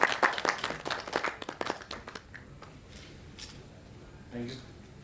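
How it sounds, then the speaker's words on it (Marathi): An audience claps loudly, a quick burst of sharp claps in the first two seconds that then fades into quieter room noise, with a voice briefly audible toward the end. "जोरदार टाळ्या वाजवूया."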